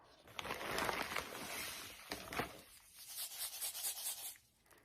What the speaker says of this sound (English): I'm going to use this cup to place the beads into the funnel.